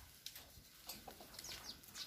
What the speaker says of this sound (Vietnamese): Ở đây có mấy con chim trĩ đây nè mọi người.